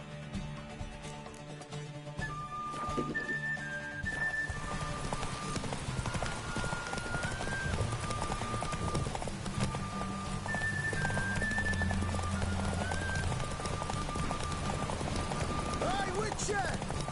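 Roach the horse gallops in the video game Witcher 3, with a steady clip-clop of hooves running continuously beneath game music and ambient sound.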